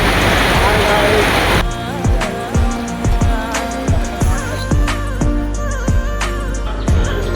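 Heavy rain pours in a jungle, first as a loud dense wash, then giving way to steady pattering with repeated drips and thuds close by.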